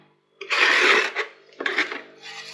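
A trowel spreads plaster across cracked sections of a wall in two rough, rasping scrapes, close and fairly loud, separated by a short pause.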